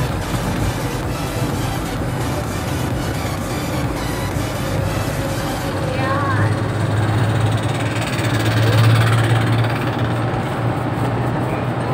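A 1996 Daihatsu Espass engine runs steadily as the driver gives it gas, a dense low rumble climbing slightly in the second half, heard from inside the moving car with a voice talking over it.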